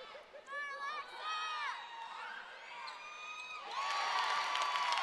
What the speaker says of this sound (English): The crowd comes alive now that the Noles have the lead back.